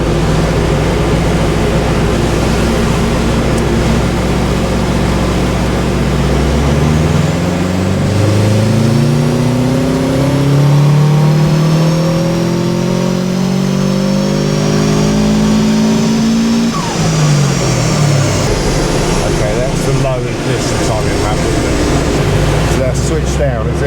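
A Subaru Impreza WRX engine pulls hard in third gear, its close, loud drone climbing steadily in pitch, easing briefly, then rising again as it revs out.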